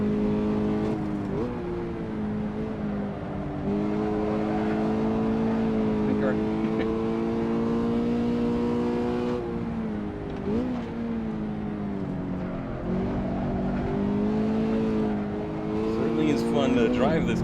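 A Fiat 500 Abarth or Toyota GT86 racing in Assetto Corsa, its engine droning steadily with pitch dips and climbs as gears change, loud and continuous throughout, with someone talking over it.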